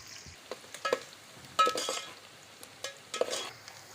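Onions browning in a pan for a tinda masala curry, with soft intermittent sizzling and scraping from stirring, quiet and close, broken by brief louder bursts of frying.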